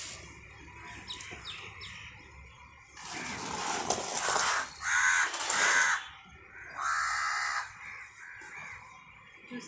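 Crows cawing near a garden with potted lotus plants: loud harsh caws burst in bunched runs across the middle of the clip, with fainter chirps early on and no talking.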